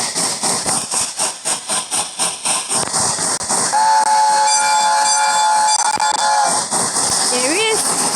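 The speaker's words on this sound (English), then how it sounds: "There is a train." A train in a train simulator game chuffs with rapid rhythmic steam exhaust beats, then a long loud steam whistle sounds and wavers, with hissing steam beneath. Speech is also present.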